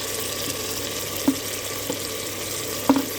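Red chili and coriander powder frying with minced meat for hari mirch qeema, a continuous sizzle in the pan with a few sharp spoon knocks against the pot.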